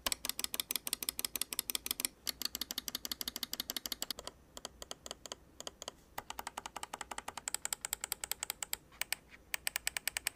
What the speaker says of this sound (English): here's a quick click test for you guys to hear what it sounds like